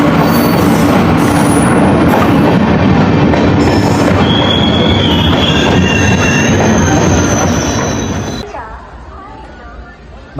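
The Silchar–Coimbatore Express rolls through a railway platform with loud continuous rumbling and high wheel squeal that fades toward the end, while a station announcement plays over it.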